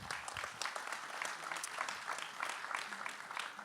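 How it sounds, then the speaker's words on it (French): Conference audience applauding, a sparse, fairly quiet patter of individual claps from a modest crowd in a room, continuing steadily with no speech over it. "Merci, on peut les applaudir."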